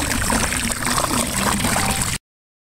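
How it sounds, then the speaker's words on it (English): Liquid chlorine bleach poured into a swimming pool makes a loud, steady gush of liquid splashing into water, sustained without a break before stopping abruptly. "If you add liquid chlorine, you want to pour it around the perimeter of your pool."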